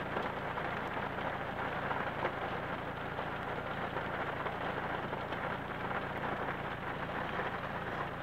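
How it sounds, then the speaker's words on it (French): Heavy rain drums steadily on a car during a moderate thunderstorm in Livron, Drôme, a dense, even wash of rain heard from inside the vehicle with no talking. "la pluie, elle rentre dans la voiture"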